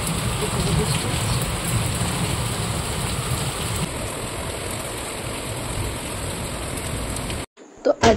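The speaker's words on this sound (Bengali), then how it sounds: "এখনো বৃষ্টি হচ্ছে" Rain pours steadily and densely outdoors, a continuous close hiss of drops that cuts off abruptly near the end, followed by a couple of brief bumps.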